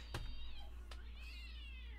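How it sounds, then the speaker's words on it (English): An angry cat yowls in a long, wavering cry that rises and falls for about two seconds, loud and close, over a steady low background hum, with a couple of brief sharp noises near the start. "That's an angry cat."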